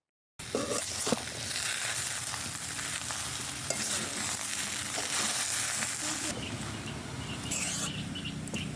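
Spiced semolina halwa cooked with tomato, curry leaves, cashews and raisins is stirred in a pan, a steady sizzle with a spoon scraping and clinking near the start and a louder burst of frying near the end, no talking.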